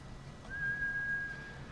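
A single steady whistle in the Ghost of Tsushima video game calls a horse, holding one clear sustained tone for under a second over quiet background hiss.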